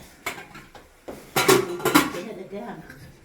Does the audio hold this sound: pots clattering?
yes